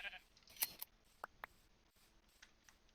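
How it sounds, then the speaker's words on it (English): Sheep being sheared in the Minecraft video game: a few short, crisp snipping clicks and a faint bleat pop up separately against a quiet background, with no talking. "Just running around shearing sheep."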